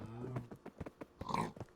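Pigs in the Minecraft video game grunt and oink in a quick run of short, choppy calls, several overlapping snorts close up, with no talk.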